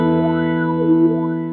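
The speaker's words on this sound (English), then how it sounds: "At this point, you can hear the filters moving fairly quickly." Old Blood Noise Endeavors Procession reverb pedal with its filters sweeping fairly quickly, a sustained tone whose upper harmonics swoop up and down in a wave, loud and alone.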